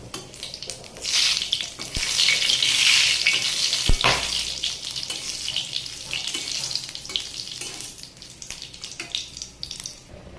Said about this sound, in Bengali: দেখুন, ডালের ভিতরে আমি ফোড়নটা দিয়ে দিচ্ছি।